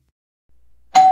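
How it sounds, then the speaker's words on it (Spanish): A doorbell in a children's cartoon breaks a near silence with a sudden, loud, ringing ding near the end, a single sustained chime tone. "cada vez que toco el timbre"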